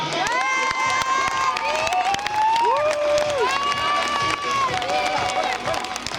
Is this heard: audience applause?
yes